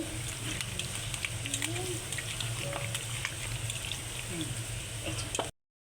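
Meat sizzles and crackles lightly in hot oil in a home kitchen pan, a steady close frying hiss dotted with small pops, with a faint voice now and then underneath.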